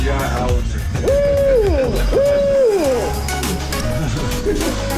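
A computer-generated owl gives two drawn-out, wavering hoots in a row, loud and close, over a murky background of low rumble.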